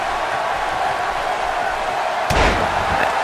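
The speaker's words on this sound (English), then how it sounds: "Oh, and a DDT by Tad McGrew" A wrestler is driven into the mat with a DDT during a wrestling match, a single sharp slam landing about two-thirds through over a continuous background crowd roar.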